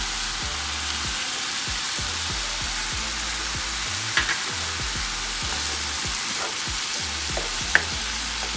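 Tomato with Knorr seasoning sautés in a pan for ackee and saltfish, a dense, even frying hiss holding steady throughout over a repeating low musical beat, with a couple of brief clinks and no voices.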